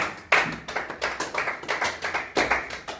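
A church congregation at a French-language Bible seminar claps in praise, steady rhythmic applause with sharp repeated hand claps at a brisk even pace, close and fairly loud, with no talking.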